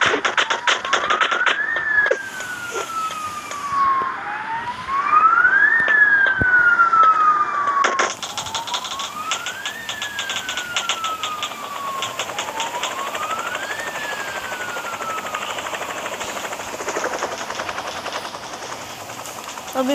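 A police siren wails in the Rope Hero Vice Town video game, sweeping up and down repeatedly during a chase, layered over a steady engine and rotor drone, with no talk.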